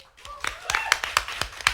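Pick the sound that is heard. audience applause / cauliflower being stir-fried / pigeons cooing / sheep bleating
audience applause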